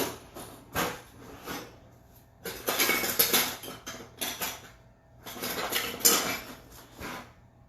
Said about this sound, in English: just need a measuring spoon.